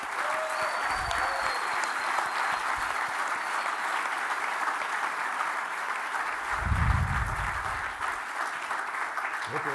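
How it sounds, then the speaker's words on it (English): An audience at the Tech4Africa 2011 technology conference claps in steady, sustained applause that fills the room from start to finish. "A big round of applause, ladies and gentlemen."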